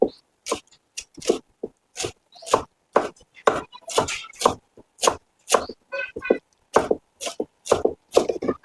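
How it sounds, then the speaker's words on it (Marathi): Knife finely chopping colocasia leaves and coriander on a board for alu vadi, a steady run of sharp close cutting strokes in quick irregular bursts, loud and alone. "बारीक चिरून घ्यायचं"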